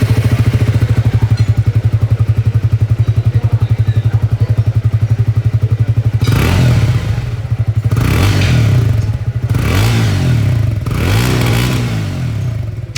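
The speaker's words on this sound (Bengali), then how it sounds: "এবার যে এক্সস্ট ওটাই আপনাদেরকে আমি আওয়াজটা শোনাবো" A 2024 Triumph Speed T4 motorcycle idles with a steady, throbbing exhaust thump, then the engine is revved hard three times in quick succession, each rev rising and falling back to idle, close and loud.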